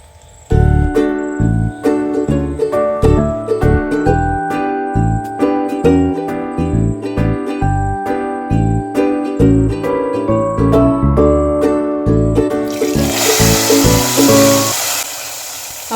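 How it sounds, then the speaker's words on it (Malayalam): Hot tempering poured into a rasakalan curry, producing a burst of hissing sizzle near the end that rises over loud, steady rhythmic music playing throughout. "അതിലേക്ക് നമുക്ക് ഈ വറവ് അങ്ങോട്ട് ഒഴിച്ചു കൊടുക്കാം"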